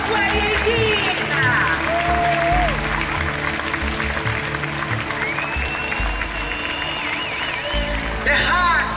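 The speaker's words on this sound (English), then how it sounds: "A big applause for the Hello City, the organizer of the Dragon Ball Festival 2018." Applause from a crowd at the closing ceremony of an international dragon boat festival in Florence, clapping under music and an amplified voice speaking over it throughout.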